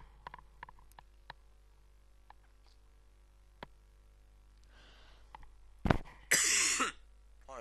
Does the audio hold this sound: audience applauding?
no